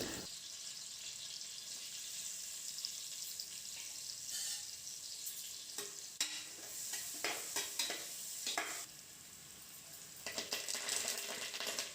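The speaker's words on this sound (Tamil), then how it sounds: "கடுகு உளுந்தம் பருப்பு போட்டு அது பொரிஞ்சதும் பச்சை மிளகா, வெங்காயம், அப்புறம் பெருங்காயம் எல்லாத்தையும் போட்டு நல்லா வதக்கிக்கலாம்" Mustard seeds, urad dal, green chilli and onion sauté in a cooker with a quiet, steady sizzle, broken by scattered clinks and scrapes of stirring.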